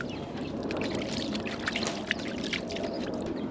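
Water pouring and trickling steadily while a gold-prospecting flow pan is rinsed out after sluice-box mat material, a continuous splashy wash with small drips and bursts, close and alone without speech.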